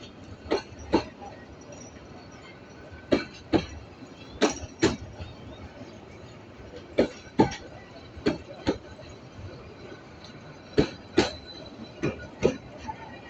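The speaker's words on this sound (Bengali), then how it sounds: "13টা ডাব্বা নিয়ে ট্রেনটা ঢাকার উদ্দেশ্যে ছেড়ে গেল।" A train of 13 coaches pulls out of Tongi railway station, its wheels striking rail joints in loud, regular clattering pairs over a steady rumble.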